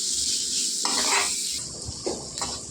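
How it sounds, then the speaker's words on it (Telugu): Ingredients for majjiga pulusu, a buttermilk curry, sizzle in a frying pan while a utensil scrapes and clinks against the metal in short bursts, close and moderately loud. "ఇదైతే కొద్దిగా వేగనిద్దామండి"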